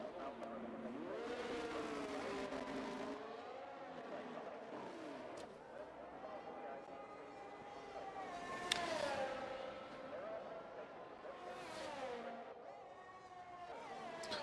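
Sim racing cars, including an Aston Martin on soft compound tires, rev and drone with rising and falling engine pitch as the pack leads away, fairly faint and continuous beneath steady commentary.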